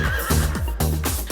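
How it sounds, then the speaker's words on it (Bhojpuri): A horse neighs in several loud, close whinnies that rise and fall in quick succession, heard alone without any talk. "हिन हिन करत घोड़ा भागे"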